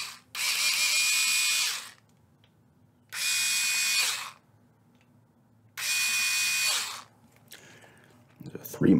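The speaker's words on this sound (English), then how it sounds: "Let me get those screws out." Three close, loud bursts of a power drill backing out screws, each about one to two seconds long with short pauses between, during a playful robot-repair roleplay; a soft tap ends the sequence.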